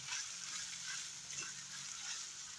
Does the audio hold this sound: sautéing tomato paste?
yes